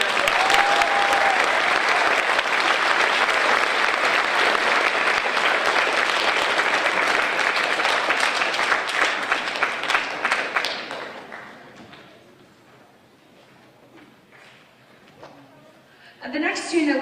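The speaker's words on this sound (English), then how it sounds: "Please give all of these students a round of applause." A crowd applauding students at a middle school band concert, with sustained, dense clapping for about ten seconds that fades into a quiet room before a new burst of sound.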